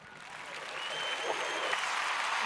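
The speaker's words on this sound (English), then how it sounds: "That gets a clap." Applause sound effect on a stream, a swell of crowd clapping that starts soft and builds to a steady, moderately loud wash.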